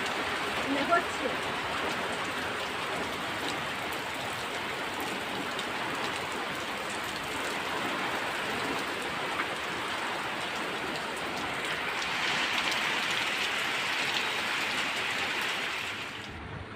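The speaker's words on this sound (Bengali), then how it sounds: "এই যে বৃষ্টি হচ্ছে, কতটা ক্যামেরায় আসছে বুঝতে পারছি না, বাট অনেক বৃষ্টি হচ্ছে" Heavy rain pours steadily outside during a storm, a dense, continuous hiss of drops on surfaces that swells slightly louder toward the end and keeps an even, enveloping roar throughout.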